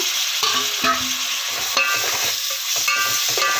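Tomatoes sautéed and stirred in a pan for a soybean biryani gravy, with steady close sizzling and repeated spatula scrapes and clinks at an even pace, no voices.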